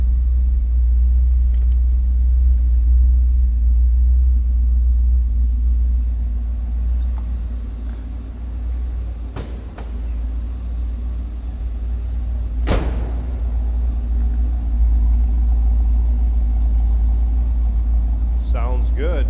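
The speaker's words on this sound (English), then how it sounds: "Little rumble coming out of that 5-liter high output V8." A 5-liter high output V8 in a 1984 Pontiac Firebird Trans Am idles with a deep, steady low rumble, close and constant throughout, with a couple of sharp clicks and a voice talking over it.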